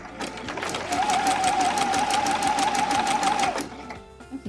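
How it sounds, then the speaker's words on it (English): A sewing machine runs a zigzag stitch along a quarter-inch seam allowance on a stretchy headband, a fast steady mechanical rattle with a sustained motor whine for about three seconds before stopping, close and alone. "I've got my zigzag stitch on my machine, and I am gonna sew with a 1/4 inch seam allowance"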